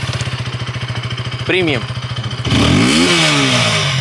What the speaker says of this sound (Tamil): எக்ஸாஸ்ட் நோட்டை கேட்போம்.